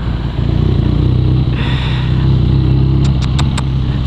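A 2017 BMW R nineT motorcycle engine drones steadily while riding, a close, continuous mid-pitched hum with a slight swell in revs and faint wind noise, no talking.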